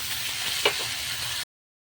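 Onions sizzle in hot oil with mustard seeds, cumin and curry leaves, a steady close frying hiss with a brief louder burst as tomato goes into the pan, then cut off.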